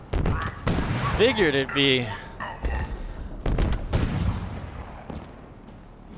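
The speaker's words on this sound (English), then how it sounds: "now they're taking shots" Enemy gunfire in Halo Infinite on Legendary difficulty: loud, booming shots in several bursts mixed with alien chatter and impacts, while a voice speaks briefly over the fight.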